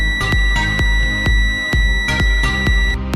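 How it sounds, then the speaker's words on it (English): An Aneng M113 digital multimeter sounds a series of sharp, repeated electronic beeps in an uneven rhythm, close and clear, with a steady high tone running beneath them. "When a nearby power supply is sensed, a beep alarm will be issued."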